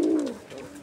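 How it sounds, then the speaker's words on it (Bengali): A pair of pigeons gives a low, soft coo up close, one rolling call fading into a quieter murmur within a second. "কবুতরের জোড়াটি কিন্তু এই মুহূর্তে প্রচুর পরিমাণে ডাকাডাকি করতেছে"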